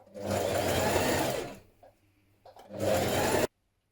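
Sewing machine hemming a dress, running in two steady bursts separated by a short pause with faint handling sounds.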